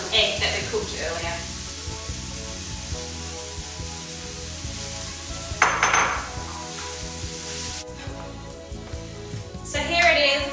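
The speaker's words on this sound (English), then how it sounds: "the last thing to do is just to fold through the egg that we cooked earlier." Spatula scrapes and pan clatter as cooked egg is folded through fried rice in a 28cm Chef Series II pan, the soft metallic knocks recurring unevenly under steady background music.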